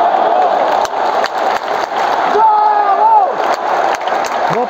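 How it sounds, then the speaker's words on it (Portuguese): Football stadium crowd at the Castelão applauding and cheering steadily as a player is substituted during a Ceará match, a dense continuous roar with voices calling out through it. "A galera aplaude o Jael."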